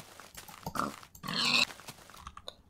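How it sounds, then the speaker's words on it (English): Pigs in the Minecraft video game (Infdev version) give short grunts and one longer squeal-like oink, close and clear against a quiet background, over less than three seconds. "I think I hear a couple pigs out."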